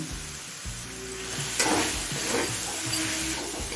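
Fried fish heads and capsicum sizzling in an oil-filled pan with cabbage, a steady hiss with stirring scrapes and a few louder crackles, close and continuous with no talking.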